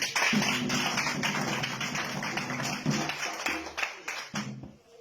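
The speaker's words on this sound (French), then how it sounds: "applaudissez pour Karim" An audience claps for Karim at a public gathering, giving a dense, steady patter of hands that continues for several seconds and then thins out, with a faint voice underneath.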